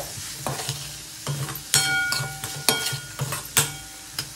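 Zucchini stir fry with salt and chilli powder being stirred in a pan, with a soft background sizzle broken by five or six sharp scraping strokes of a spoon against the pan.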